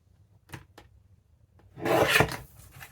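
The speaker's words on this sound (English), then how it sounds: "I'm just going to trim some of this white off" Paper being trimmed during a junk journal craft session, heard as a few light dry cuts followed by a louder, longer rasping slice nearby.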